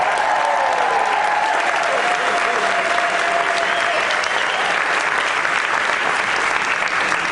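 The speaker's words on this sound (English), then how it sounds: "Give them a big round of applause." Theater audience giving costume makers a big round of applause, dense loud clapping that holds steady from start to finish, with a faint tone drifting underneath early on.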